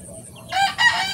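A brief, close burst of calls from 14-day-old chicks, two quick squawking notes over a low background hum.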